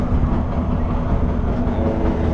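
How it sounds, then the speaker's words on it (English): Passenger train travelling on the rails toward Nairobi city, a loud continuous rumble with steady rolling wheel noise heard from on board, without talking. "The train is never silent for anyone who has never boarded one."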